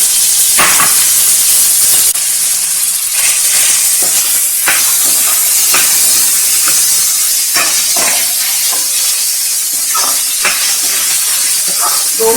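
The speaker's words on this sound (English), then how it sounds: "Now this garlic and ginger will give very good flavor in the oil. We're going to add some onion." Chopped onion hisses and sizzles loudly in hot oil already flavored with garlic and ginger for North Indian baingan bharta, a constant close frying roar with crackling pops.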